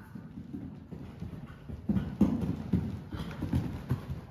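Horse hooves clip-clop on an arena surface during a gymnastic jumping line session, a moderate, uneven run of hoof beats at close range with no talking.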